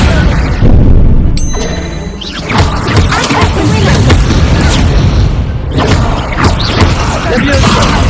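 A Confringo blast spell exploding in Hogwarts Legacy amid combat, a loud booming impact followed by several crashes and thuds, with a voice shouting spell names over the fighting.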